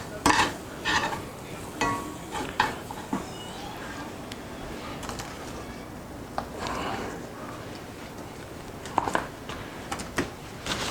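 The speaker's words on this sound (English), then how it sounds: "Gonna give this a nice stir. Get this raw flour taste out." Flour and butter gravy being stirred in a pan for a ribeye and mushroom gravy, with soft scraping and light clinks of a utensil against the pan over a low sizzle, in intermittent strokes.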